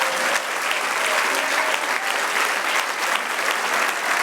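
A church congregation applauds steadily and fairly loudly for the whole stretch, a dense, continuous wash of many hands clapping with no break.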